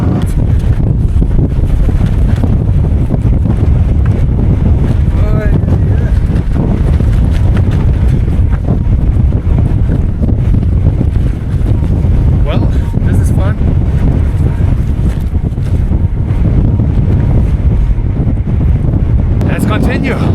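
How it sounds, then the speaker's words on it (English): Strong wind buffets the microphone while cycling in remote China, a loud, continuous roaring rumble with gusty fluctuations lasting the whole stretch. "This wind."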